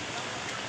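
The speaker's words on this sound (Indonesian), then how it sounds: "Nah beginilah cuaca di Kota Ambon, hujan." Steady rain falls over the city of Ambon, a dense continuous hiss of drops on surfaces at an even, moderate level with no talking.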